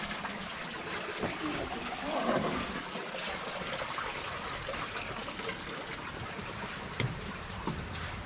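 Water trickling and rushing along the Torrent Neuf, a narrow historic mountain irrigation channel in Savièse, Valais, heard as a steady broadband wash close by, with brief louder swells.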